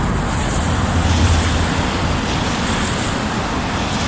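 Road traffic rolls past on a wet road beside puddles. A constant broadband wash of tyre and engine noise comes from close by, with no talking.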